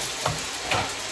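Pork goes into a pan of sautéed onion, garlic and ginger for Bicol express, crackling and sizzling steadily up close, with two brief stirring bumps.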